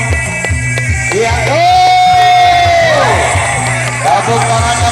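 A crowd at a Sundanese cultural arts performance cheers and whoops loudly over pulsing music, with shouted calls rising above the din and clapping blended into the steady, close roar.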